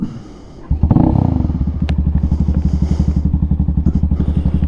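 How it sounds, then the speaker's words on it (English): A Venom Ghost Chopper 250 motorcycle starts with a thud after a quiet moment, then settles into a loud, close, steady idle with a rapid, even chugging pulse. "Let's fire this beast up"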